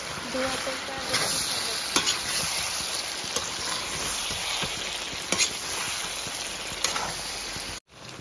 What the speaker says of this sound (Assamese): কি ধুনীয়াকৈ উতলিছে